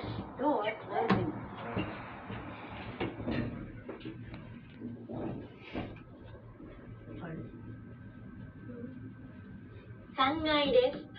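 A Mitsubishi elevator door rumbles and slides shut with clunks and a soft thud, while muffled voices murmur and a tonal chime sounds near the end.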